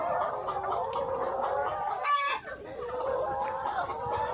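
A flock of chickens clucks steadily inside a coop during egg collection, fairly close and continuous, with one brief louder squawk partway through.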